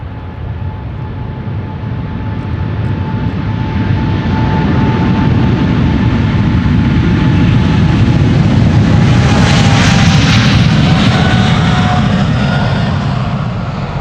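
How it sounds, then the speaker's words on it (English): A KLM Boeing 777-300ER departs Amsterdam Schiphol, a loud sustained jet engine roar that swells as it passes close by, with a rising whine and broad rumbling thrust, no voices. "The first of 2 consecutive 777-300ERs from KLM."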